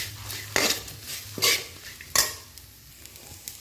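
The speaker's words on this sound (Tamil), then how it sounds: "இதை நல்லா கலந்து விட்டுக்கலாம்." Roasted spice powder is stirred into an ivy gourd fry in a pan: three distinct scraping stirs of a utensil against the pan over a light sizzle, close and clear with no speech.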